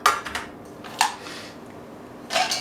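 Metal camping mess kit pots and lids clank together in a few sharp, ringing knocks spaced apart, close up and fairly loud, with no talking.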